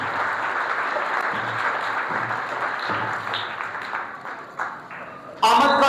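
A church congregation bursts into loud, hearty applause near the end, right after a man's long spoken announcement, which fills most of the stretch.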